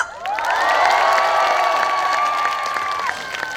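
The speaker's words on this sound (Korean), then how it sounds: "한 번 더 앵콜 원하시는 분들은 박수 함성!" An outdoor festival concert audience at the Gyeongsan Jujube Festival claps and cheers for an encore, a loud sustained roar of applause and shouts with a high whistle-like cry rising above it for about three seconds.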